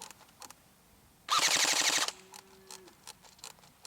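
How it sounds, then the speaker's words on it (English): An Elite Force M4 CQB airsoft gun fires a single rapid full-auto burst lasting under a second, loud and close, surrounded by quieter clicks and handling noises. "Alright, so there you are, 4 bursts of full auto."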